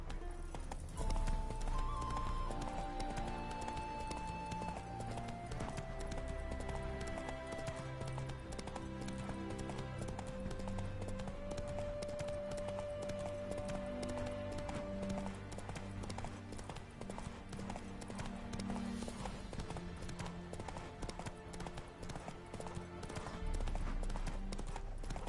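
Hooves of Roach, the horse in The Witcher 3 video game, clip-clop steadily at a gallop throughout, with an occasional whinny, set under a constant layer of game music.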